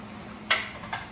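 A spoon scraping through dirty rice in a pot as the cooked rice is mixed in. Two short, close scrapes about half a second apart over quiet background.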